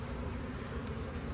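Dense, steady drone of many honeybees in an open hive with brood and sugar feed, a continuous close buzzing with no gaps and no talk.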